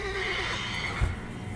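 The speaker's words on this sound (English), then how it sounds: "something spooking the horses." Spooked horses whinny in Witcher 3 Wild Hunt, a loud, close neigh with a wavering pitch over steady game ambience and background music, with a dull thump partway through.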